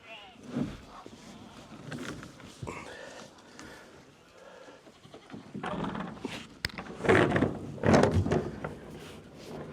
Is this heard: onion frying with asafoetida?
no